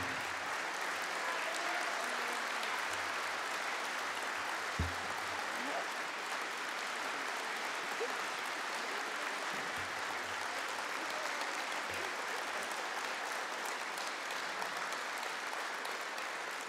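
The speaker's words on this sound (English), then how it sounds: "Please stand up, young people, and give them a big round of applause." An audience at a youth awards event stands and applauds the contestants, with a long, steady roar of many hands clapping that continues without pause for over sixteen seconds, plus an occasional low thump.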